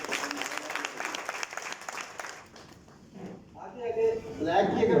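An audience claps at a Honda motorcycle training presentation for the red CD125, a burst of applause in the first half that thins out, followed by someone speaking to the crowd.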